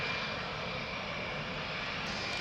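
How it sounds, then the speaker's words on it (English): Steady, broadband drone of an airplane engine passing over the Parliament building area in Vancouver, continuous and fairly loud throughout with no voices. "Like, look at this plane!"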